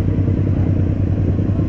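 A 2010 Suzuki Yes 125 motorcycle engine runs at a steady, loud idle-like drone with a low throb and constant rattling texture, heard up close without talk.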